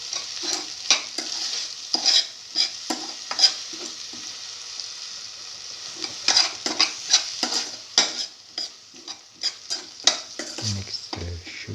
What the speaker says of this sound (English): Mix the sugar and the pasta and the watermelon together.